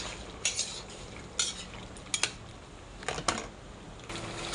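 Chicken afritada with pork ribs being stirred in a pan, a steady low sizzle broken by several sharp scrapes and clinks of a spoon against the cookware, with no talking.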